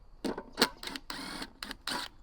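A cordless impact driver backs out Phillips screws from a Scilog pump casing in short, close bursts of whirring and rattling, several quick pulses with brief pauses between them.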